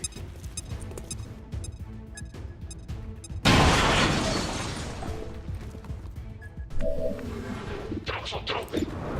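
A frag grenade goes off in the tactical game XCOM 2 with a sudden loud blast that rolls off into a crashing decay, followed by a smaller secondary burst, amid game sounds and a voice talking.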